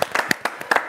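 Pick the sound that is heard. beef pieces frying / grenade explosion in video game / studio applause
studio applause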